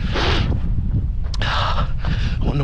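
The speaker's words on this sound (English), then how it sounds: "When the winds are strong, this is where you feel it, along these opens." Strong wind buffets the microphone in loud, rough gusts that swell and fade, with a roaring rush filling the whole clip.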